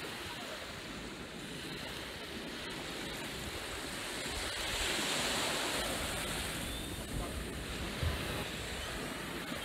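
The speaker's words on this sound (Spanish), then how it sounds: "El agua está muy tranquila, está bien bonito" Calm sea waves wash steadily onto the beach at Akumal under overcast skies, a continuous broadband surf wash with a gentle swell in the middle, mixed with light wind noise.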